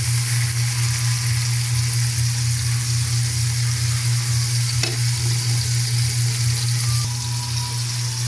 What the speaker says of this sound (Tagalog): Isasahog natin sa pinalambot na buto ng bitsuelas